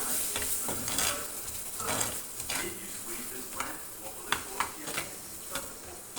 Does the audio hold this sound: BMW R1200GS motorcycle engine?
no